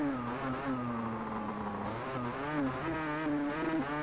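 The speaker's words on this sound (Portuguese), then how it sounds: "Quero mostrar aí a moto de dois tempos." A two-stroke 500cc racing motorcycle engine in the video game Valentino Rossi The Game, revving loud and steady with its pitch rising and falling through gear changes for the whole stretch, with no talk.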